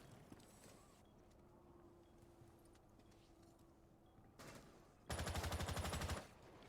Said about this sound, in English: The Capital and Jedi there on the Zofia are going to be bringing out those LMGs.